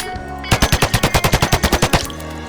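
Rapid automatic gunfire in the zombie survival game Project Zomboid rattles off about fifteen evenly spaced, punchy shots in a tight burst. It sounds loud and close over a low game background.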